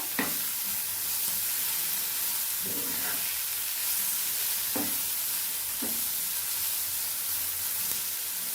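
A spoon scrapes through a spiced breakfast farsan mixture with plenty of chopped coriander added, in a few separate strokes over a steady background sizzle and hiss.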